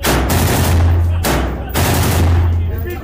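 Honey Badger rifle firing outdoors, three loud booming shots in a row, each with a long ringing tail, close and strong.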